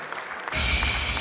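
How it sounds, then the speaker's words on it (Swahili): Audience applause at a gospel music awards ceremony, bursting in suddenly after a quieter moment and holding as a broad, even roar of clapping. "Tuwape makofi mazuri na mazito."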